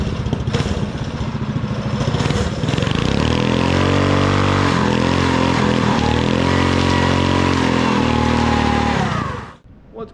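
Minibike (Real Tree RT100) powered by a 212cc 6.5 hp engine, loud close revving that climbs and holds a high pitch before cutting off sharply near the end.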